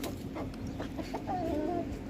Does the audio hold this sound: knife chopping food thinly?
no